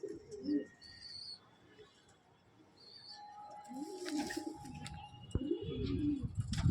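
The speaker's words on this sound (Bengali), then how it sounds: "তো দেখুন একটা বন্ধু কালো সবুজ পায়রা" Young black-green short-beaked pigeons in a loft give soft low coos and scattered chirps, faint at first and growing fuller and closer, with light rustling and background noise.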